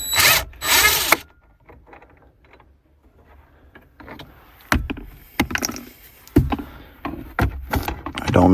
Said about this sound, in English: And yes, I brought the drill.